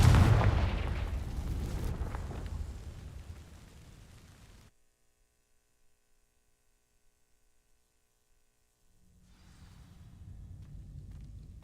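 A Confringo fire spell from the Hogwarts Legacy video game explodes with a loud burst that decays over about four seconds, followed by near silence and then a low ambient hum rising.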